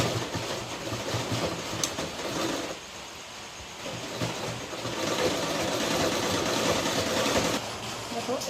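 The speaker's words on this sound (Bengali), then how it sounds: "ভাঁজ করে দিয়ে এই থ্রেনটায় খানিক ভাঁজ করে আমি পুরোটাকে এবার সেলাই করে দিলাম।" Domestic sewing machine stitching folded fabric while making a princess-cut blouse, a steady mechanical running hum that pauses briefly near the middle and then resumes, with a voice talking over it.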